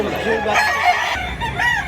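A Lambuhon x Kanawayon gamefowl rooster in Mantalungon, Cebu crows and clucks close by in a short burst, with a voice talking alongside.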